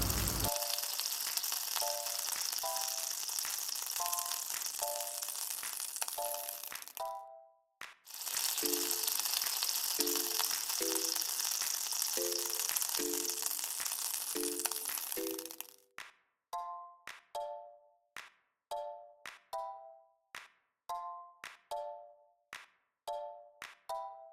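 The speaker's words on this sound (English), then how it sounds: "Start with hot oil. Add tomatoes for that classic karahi base. Let the tomatoes melt down." Tomatoes fry in hot oil in a pan for prawn karahi masala, giving a steady bright sizzle under a plucked melody; after the sizzle stops, the tune continues in short stabs.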